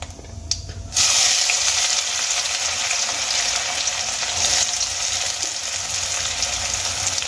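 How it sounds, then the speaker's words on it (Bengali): Onions for Bengali aloo kachuri filling hit a pan of oil and cumin seeds, bursting into a loud, steady hiss after a brief quiet start and frying continuously up close. "এবার আমি পেঁয়াজগুলোকে ভেজে নেব"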